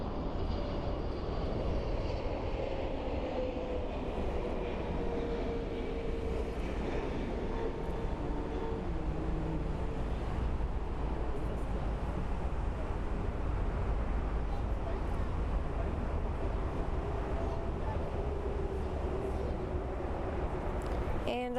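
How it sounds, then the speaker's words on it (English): A Boeing 777 freighter lands close by at Frankfurt Airport, its jet engines giving a steady, loud roar that holds throughout with a faint shifting whine, heard alone without talk. "And a very beautiful landing of a 777 FFX"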